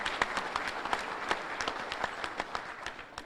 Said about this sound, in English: they deserve a round of applause and appreciation as well